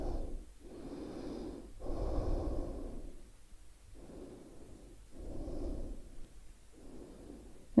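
Slow, deep breaths taken while resting in a yoga pose, with audible inhales and exhales in an even rhythm of about three cycles, close and quiet, with no talking.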